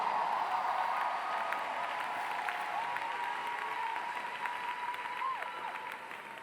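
A congregation at a church service claps in a steady, dense wash of applause that holds for several seconds and fades slightly toward the end, with faint voices and cheers mixed in.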